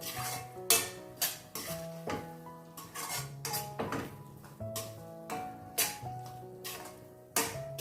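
Mutton masala gravy being mixed in a pan, with a utensil knocking and scraping against the metal in a loud, irregular rhythm of clanks over about eight seconds, no talking.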